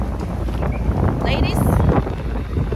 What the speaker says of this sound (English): I hope that it's not too much wind